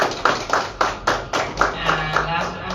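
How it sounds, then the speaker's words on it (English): Steady rhythmic clapping, about twice per second, from a small group nearby, with some voices mixed in underneath. "Round of applause for her people."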